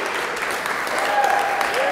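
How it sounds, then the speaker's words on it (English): Brief applause from a live talk-show audience, a short burst of clapping with a voice speaking over it. "First time, yes, you may applaud."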